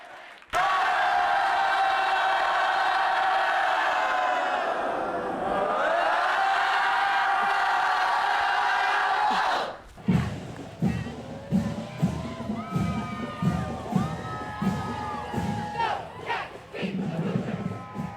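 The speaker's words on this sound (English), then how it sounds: "leads the band in a traditional Wildcat growl" A university Wildcat marching band shouts its traditional growl together, one long, loud, sustained roar of many voices that wavers in pitch. After the growl, excited crowd chatter and scattered whoops follow.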